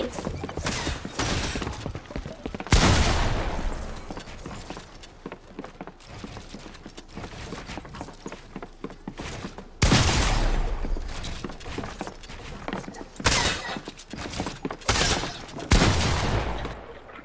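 Gunfire in the video game Fortnite: repeated loud, sharp shots and rapid bursts with clattering impacts, coming in clusters over a continuous busy game background.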